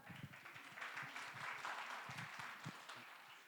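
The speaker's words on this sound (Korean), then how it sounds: "응원의 큰 박수와 함께 스피치 시작합니다" A youth audience at a Christian speech contest gives a round of applause before a speaker begins. The steady, fairly faint clapping of many hands continues across the whole stretch.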